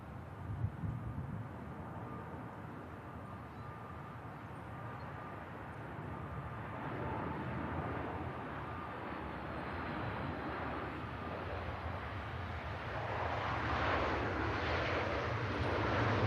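A Ryanair airliner comes in to land at Manchester Airport as a quiet, distant engine rumble slowly builds louder toward the end.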